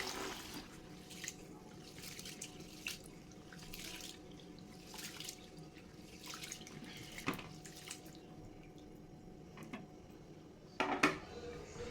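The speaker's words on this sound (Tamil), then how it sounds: "இப்போது தண்ணி ஊற்றி நாம் 3 தடவை கழுவி எடுத்துக்கலாம்." Tap water running into a vessel to wash soaked lentils for an instant dosa batter, a steady close splashing with a few clinks and a brief louder gush near the end.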